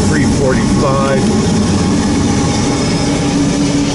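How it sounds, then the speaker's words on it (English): A westbound freight stack train rolls past close by with a loud, continuous low rumble and roar that stays steady throughout, with a couple of brief rising whistle-like squeals near the start. "Westbound stack train of unknown origin."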